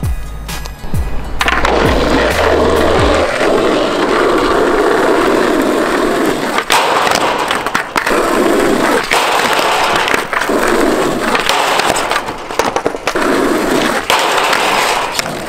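A skateboard rolls loudly across pavement with a steady grinding roar, following a sharp pop and slap at the start as a trick is landed. The rumble runs on for several seconds with occasional clacks of the wheels and board.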